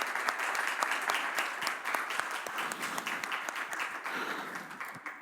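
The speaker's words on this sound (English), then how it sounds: "I think that deserves an applause." Audience applause at a summit session, a steady dense patter of many hands clapping at moderate distance, sustained for several seconds without talk.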